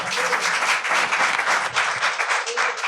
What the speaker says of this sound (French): on peut applaudir Thierry